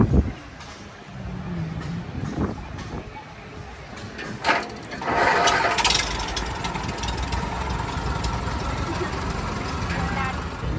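A 1952 Minneapolis Moline Avery V tractor engine cranks and catches after a few clicks and clunks, then settles into a steady, loud idle, with someone speaking early on.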